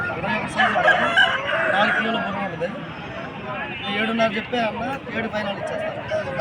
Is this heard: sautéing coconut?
no